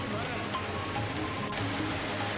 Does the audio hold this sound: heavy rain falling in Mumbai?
yes